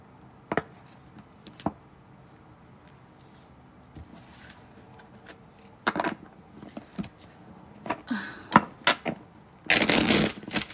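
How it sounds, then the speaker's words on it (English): Scattered soft taps and clicks of cards being handled, then brisk riffling bursts of shuffling near the end, close and fairly quiet. "I'm gonna shuffle these cards."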